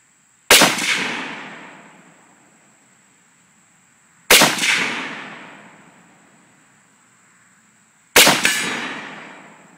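Three sharp AR rifle gunshots, evenly spaced about four seconds apart, each a loud crack with a ringing decay tail, outdoors with nothing else audible between shots.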